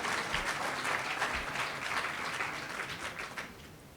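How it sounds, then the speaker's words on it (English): Sustained audience applause at a prayer breakfast honoring Ambassador Young, a dense wash of many hands clapping evenly throughout, fairly loud and continuous with no talk over it. "Give Ambassador Young another great big round of applause"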